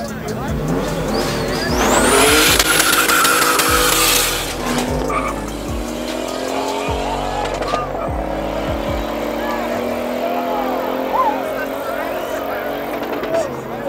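A supercharged BMW Z3 and an Infiniti Q35i launch side by side at a Nasrec drag strip, engines revving and climbing in pitch with a burst of tire squeal early on, loud and close, while people talk over the noise.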